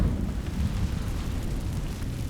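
The Incendio fire spell in Hogwarts Legacy erupts with a deep, roaring whoosh of flame, a continuous low rumble held for a couple of seconds with no voices.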